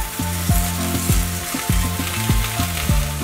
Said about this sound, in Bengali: লো করে দিয়ে আমি এখানে টুকরো করা শাকগুলো দিয়ে দিচ্ছি